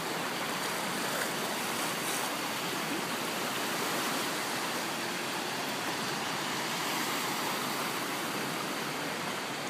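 A car pushes through deep floodwater on a street in Aktau, throwing up a steady, unbroken rush of splashing water that continues without any talk.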